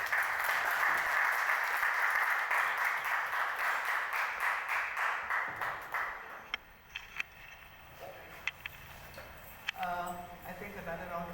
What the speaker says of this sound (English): I think another round of applause for a fantastic storyteller.